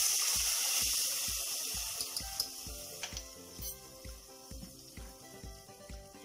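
Water is poured into a pot of tempered cumin and pepper for jeera rice, a trickling stream that fades while a run of rhythmic metallic clicks and taps continues close by.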